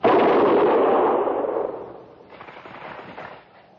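A single loud artillery blast in a 1956 Western radio drama at Fort Laramie, booming up front and then decaying into a fading rumble and echo.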